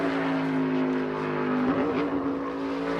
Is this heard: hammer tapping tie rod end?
no